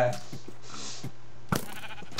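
A sheep bleats close by in a few short, nasal calls, with a sharp louder one near the end, over a faint background hum.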